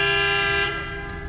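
Coach horns honking at a London demonstration, a loud sustained blast that fades slightly toward the end.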